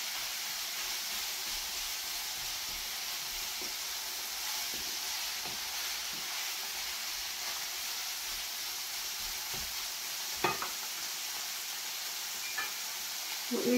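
Ground meat browns in a pan on an electric stovetop for zucchini karnıyarık, giving a steady broad sizzle throughout. Occasional soft scrapes and taps of a utensil sound near the end.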